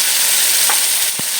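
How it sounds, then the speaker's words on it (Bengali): Turmeric and ground spice paste fries in hot oil for a pangas fish curry, a steady close sizzle with a brief spoon or pan knock near the end. "এখন মশলাটা দিয়ে ভালো করে কষিয়ে নেব"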